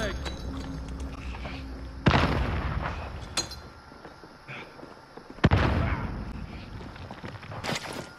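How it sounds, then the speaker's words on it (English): A grenade in the video game Warzone explodes, with two loud booming blasts about three seconds apart cutting through constant gameplay noise and chatter. "I killed one with that grenade by bouncing it off the wall and throwing it that back at him."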